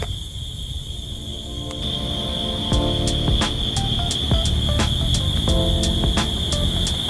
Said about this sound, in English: And listen to those cricket sounds and everything.